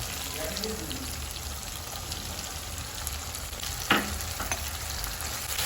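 Spices such as ginger, garlic, coriander and cumin fry in a pan with a steady close sizzle and crackle, punctuated by a brief stir or scrape near the end.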